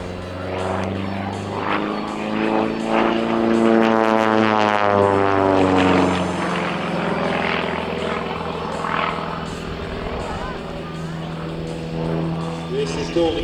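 A Pitts S-1D aerobatic propeller biplane flying an air display, its engine drone rising and shifting in pitch as it climbs into a stall turn, loud and steady under continuous commentary from an announcer.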